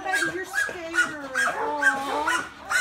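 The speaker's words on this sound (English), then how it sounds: "Listen to his bark so much." A rescued hound dog gives repeated close, fairly loud barks and yips, about six or seven in a quick uneven rhythm, with a whining, bawling tone and no clear talk over them.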